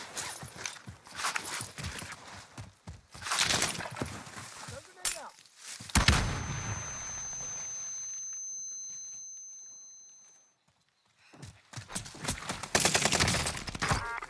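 Sustained automatic gunfire in Call of Duty Warzone, loud dense bursts up close, breaking off for a long ringing lull before the rattling fire resumes.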